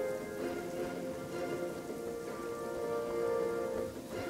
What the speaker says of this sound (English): Oh man, it's raining now.